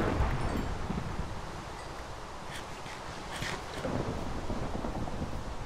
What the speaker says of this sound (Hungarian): Esős időnk van most tényleg nagyon.